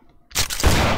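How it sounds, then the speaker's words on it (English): A single gunshot firing effect for a game weapon, a sharp loud crack bursting out after a brief near-silence and trailing into a sustained noisy tail. "this right here will be my firing noise"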